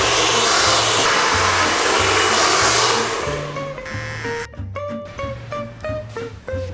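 A hairdryer blows in a loud, steady rushing hiss up close, holding for about three seconds before fading beneath tinkling background music.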